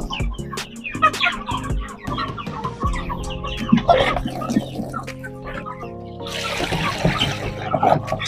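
Chickens cluck steadily nearby after fresh water is poured into their drinkers on a small urban farm, with soft trickling water and a voice murmuring underneath.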